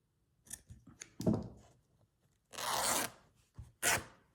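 Fabric torn by hand while making a slow-stitched zipper project: small rustles and handling sounds, then a long, loud rip, a pause, and a second short tear, heard up close with no talking.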